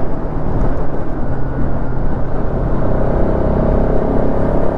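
A Bajaj Pulsar RS 200 motorcycle runs at speed, its engine a loud, steady, unbroken roar blended with rushing wind noise throughout.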